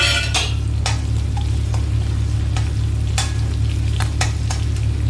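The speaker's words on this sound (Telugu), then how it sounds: "పచ్చిమిరపకాయ కూడా నాకు బాగా వేగాలండి వేగితే టేస్ట్ బాగుంటుంది" Green chillies fry in a pan with a steady, close sizzle and crackle, broken by a few sharper spatters and stirring scrapes throughout.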